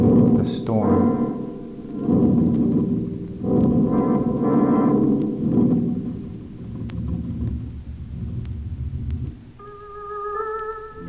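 Deep, rolling thunder effect on an organ recording, several heavy rumbling swells in succession with a low echoing tail, followed by a thin sustained organ chord.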